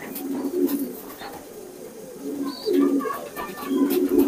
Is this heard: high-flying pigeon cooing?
yes